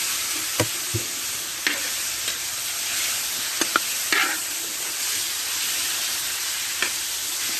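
Marinated meat sautés in a pan, giving an even close sizzle with occasional sharp clicks and taps of stirring spaced through it, no talking.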